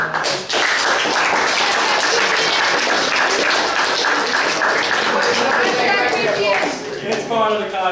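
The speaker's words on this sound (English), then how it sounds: "Everyone get applause for that kid." An audience at a comic con bursts into sustained applause, a dense wash of clapping that holds steady for several seconds before thinning out, with people talking over it.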